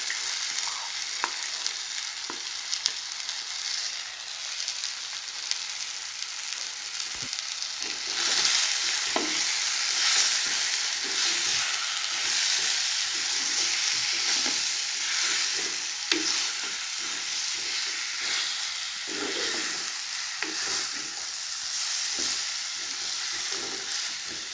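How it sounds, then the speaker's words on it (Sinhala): Marinated chicken for a Sri Lankan chicken curry fries in hot oil, giving a steady, dense sizzle that fills the whole stretch and grows louder partway through, with occasional stirring scrapes and no talking. "දැන් ටික වෙලාවක් තෙලෙන් මෙහෙම බැදෙන්න අරින්න"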